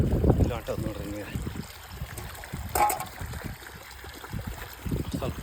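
Irrigation water flows from a pipe into furrows of a farm field, a steady trickling and gurgling stream beneath someone talking close by, with outdoor background noise.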